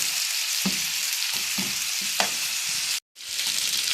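Potatoes and onion fry in a pan with a steady, loud sizzle, broken by several scraping stirs of a spoon at regular intervals and one brief dropout near the end; nobody talks.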